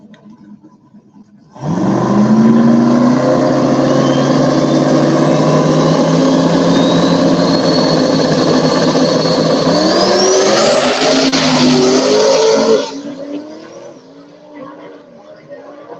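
A green truck's engine roars at full throttle in a race, a loud sustained revving run with rising pitch for about eleven seconds before cutting off into quieter crowd noise.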